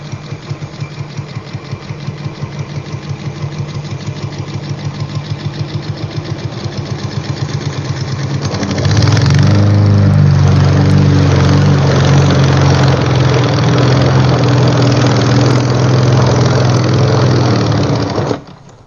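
A gas lawn mower with a 200cc engine sputters at a rough, pulsing idle, then surges to a loud, steady roar that holds until it cuts off near the end.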